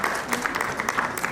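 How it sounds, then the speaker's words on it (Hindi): Applause at a Hindi book launch, a brief burst of crowd clapping with sharp individual claps standing out, steady and close throughout. "तालियों की गड़गड़ाहट।"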